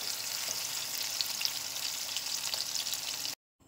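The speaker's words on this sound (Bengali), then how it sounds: "এগুলো সামান্য একটু ভেজে নেব, তারপর একটু ঠান্ডা হলে এগুলোকে পেস্ট করবো" Spices frying lightly in a pan give a steady, close sizzle with small crackles, running without a break for about three seconds and then cutting off into silence.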